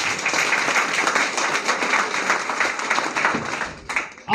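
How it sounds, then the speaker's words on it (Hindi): An audience at an indoor Hindi motivational program bursts into loud, sustained applause, many hands clapping in a dense rattling wash for about four seconds before it trails off. "आप लोगों के लिए एक बार जोरदार ताली हो जाए।"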